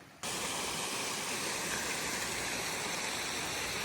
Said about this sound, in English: First waterfall of the trip.